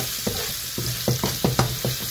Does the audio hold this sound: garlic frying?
yes